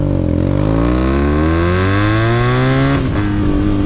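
A BMW R nineT motorcycle engine at low revs, a steady loud throaty drone rising slightly in pitch as the throttle opens, then dipping briefly near the end, heard close with no talking.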